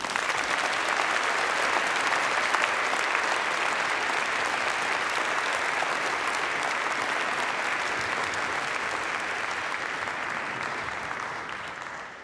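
Dense, steady applause from an audience at a Faculty of Engineering commemoration ceremony greets Department of Computing graduates, holding at an even level throughout before tapering off at the very end.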